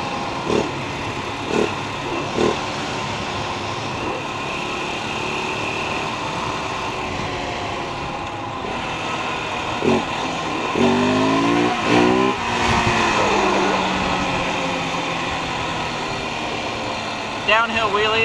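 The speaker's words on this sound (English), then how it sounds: "Downhill wheelie on the 690." A 690 motorcycle with knobby tires doing a downhill wheelie on a steep grade near Kona, Hawaii. The engine drones and revs under wind noise, with someone talking over it.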